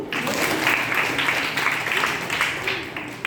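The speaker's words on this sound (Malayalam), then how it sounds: "കൈയടിച്ച് നോക്കൂ" A group of children at a Balasangham selection camp in Ponnani clap their hands together, a dense, continuous patter of applause that lasts throughout, close and fairly loud.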